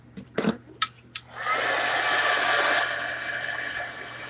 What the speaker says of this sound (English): Heat gun over top of that.